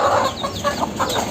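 A native hen kept in a cage on a rooftop clucks in a run of short, close, repeated calls over about a second, with no talk.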